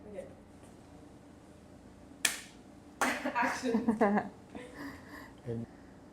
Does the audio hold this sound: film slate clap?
yes